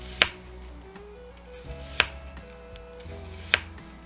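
A sharp kitchen knife slices food very thin for a BLT sandwich, three crisp, distinct cuts spaced about one to two seconds apart against a quiet kitchen hum, close and clear with no talking.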